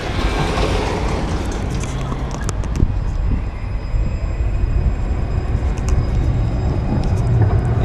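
A tram rumbles along the rails crossing the border into Germany with a steady low roar, occasional clanks and a faint high squeal.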